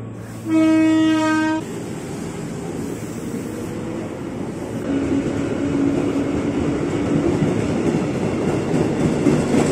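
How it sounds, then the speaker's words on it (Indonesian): An airport train's horn blasts briefly at Duri station, then the train rumbles and clatters steadily as it pulls away from the platform, growing slightly louder toward the end. "Kereta bandara sudah berangkat dari jalur 3."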